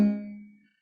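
A single barre chord on guitar strummed downward, ringing out clearly and decaying to silence within a second, played alone.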